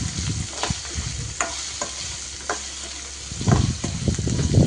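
A turmeric and salt mixture being stirred in a pan for poha, with a soft sizzle and scattered scraping strokes that grow busier near the end.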